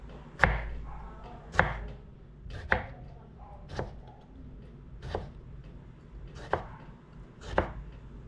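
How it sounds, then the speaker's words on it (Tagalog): A knife chopping salad vegetables into small pieces on a board, sharp single knocks spaced about a second apart, close and clear with quiet background and no talking. "Ito nihiwa-hiwa ko siya ng maliliit."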